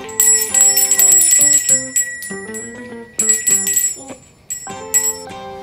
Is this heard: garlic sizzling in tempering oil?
no